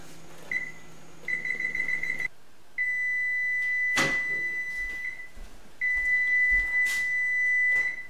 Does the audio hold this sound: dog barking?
no